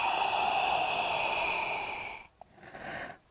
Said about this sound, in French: Soufflez.